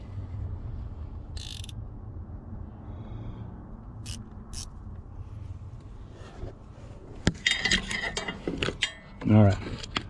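A hand tool is tightened on a truck door pin bushing, producing mechanical clicking and ratcheting over a low background rumble, with a louder burst of metallic clatter and creaking near the end.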